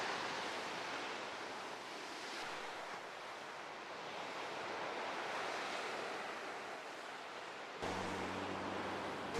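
Broad, washing surf noise from sea waves rolls continuously at St. Thomas Beach, Kefalonia, with gentle swells in loudness and some wind in the background.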